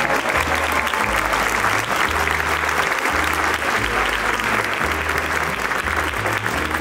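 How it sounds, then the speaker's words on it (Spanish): A large audience at a film festival applauds steadily, a dense and loud wash of clapping that holds throughout, with faint crowd murmur underneath. "Fuerte el aplauso, por favor."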